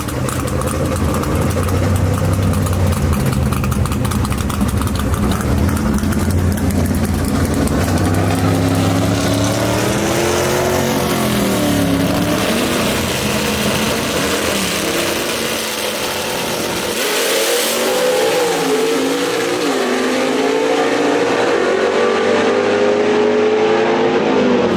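Gasser drag race cars at Shadyside Dragway roar continuously and loudly, with engine pitch rising and falling as they race, a sustained mechanical din that dips briefly near the end.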